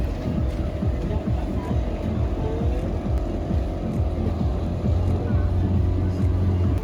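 An Axton Cruise passenger boat heading to Nusa Penida, Bali, drones with a continuous close engine rumble and water wash, a steady low hum holding at even loudness.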